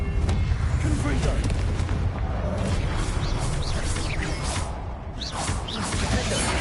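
Confringo blasting-curse explosions in Hogwarts Legacy, a dense continuous roar of booming blasts and whooshes from the fighting, loud and close throughout.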